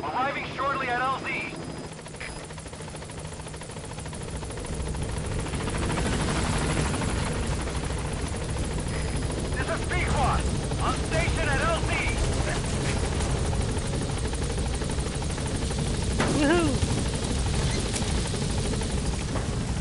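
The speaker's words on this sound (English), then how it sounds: "Wait, so the helicopter coming." A helicopter arriving in Metal Gear Solid V: The Phantom Pain, its steady rotor thrum and engine drone growing louder and holding throughout, with voices speaking over it.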